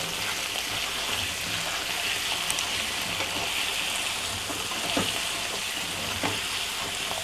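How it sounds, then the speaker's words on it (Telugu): Baby potatoes fry steadily in a pan with salt and spice powder, a dense, continuous close sizzle with occasional faint scrapes, no voices. "ఇది కొంచెంసేపు బాగా కొద్దిగా ఫ్రై కావాలండి అయిపోయిందండి ఫ్రై అయిపోయింది"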